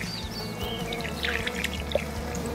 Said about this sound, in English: I'm going to give it a final little water with what's left in my bucket